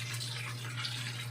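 Coconut milk pours from a cup into a cooking pot with eggplant, a steady soft liquid stream with a low hum underneath, faint and unbroken.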